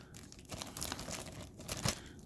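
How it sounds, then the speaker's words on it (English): Plastic packaging on a boxed anime figure torn open in a few crinkly, crackling rips, close up and fairly loud, with no voices. "Go ahead and rip the plastic open"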